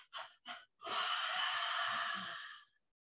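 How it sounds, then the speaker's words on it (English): Panting dog's-breath exercise during a chakra yoga sequence: two short sharp breaths, then one long forceful rushing exhale that holds steady for almost two seconds before fading, close and loud with no speech. "you are doing essentially a dog's breath"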